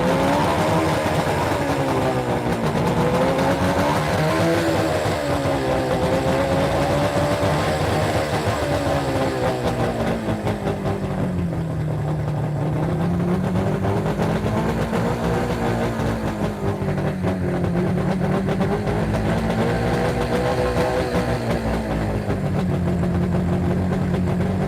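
An outboard boat engine revs up and down as throttle is applied, a steady mid-pitched drone that rises and falls in slow waves throughout, with no talking.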